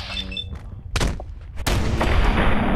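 Shotgun blasts in the video game Fallout 4 against feral ghouls: two heavy, booming shots about half a second apart, the second followed by a sustained rumbling tail.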